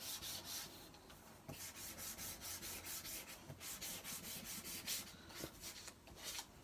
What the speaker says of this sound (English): We're going to sand it off.